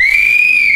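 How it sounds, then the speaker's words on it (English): A whistle blown in one steady, loud, piercing blast that holds a single shrill pitch and cuts off abruptly. "I heard her whistle first"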